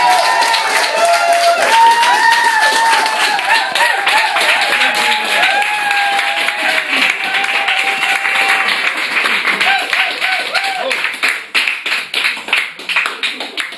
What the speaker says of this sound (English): Another round of applause for Geoff.